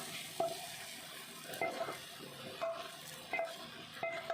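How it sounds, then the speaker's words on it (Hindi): Chopped onions go into a hot frying pan for chicken Manchurian, giving a soft sizzle with repeated scrapes and taps of a spoon stirring against the pan at a steady pace. "ये इसके अंदर प्याज डाल रही हूँ"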